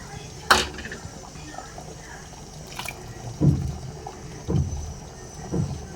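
Spice paste is poured into a cooking pot for Tamil-style mutton kulambu, producing a few soft wet plops and splashes with quiet sloshing and light clinks between them against a low kitchen background.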